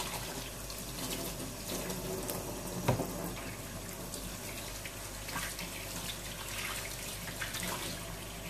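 Tap water runs steadily into a sink while a MAM baby bottle is rinsed, a continuous close splashing flow with a brief louder splash partway through.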